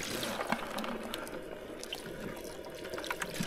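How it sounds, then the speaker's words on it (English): Water is poured out of a bucket holding yabbies, a soft, continuous splashing trickle with small scattered drips, fairly quiet and heard on its own. "just empty a bit of water out so that they're ready to go"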